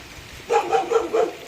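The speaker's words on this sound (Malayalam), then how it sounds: "അയ്യോ പട്ടി പട്ടി കുറയ്ക്കുന്നു" A dog barks four times in quick succession, sharp and fairly close, over a quiet background.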